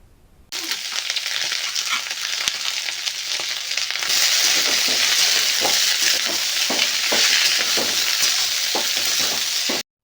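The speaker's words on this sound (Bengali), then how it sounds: "বাকি সবজিগুলো ভাজতে ভাজতে দিয়ে দিতে হবে বাঁধাকপি।" Cabbage and other vegetables fry together in a pan for a Bengali khichuri, a loud, dense sizzle starting abruptly and holding steady with repeated stirring scrapes, close by and without talk.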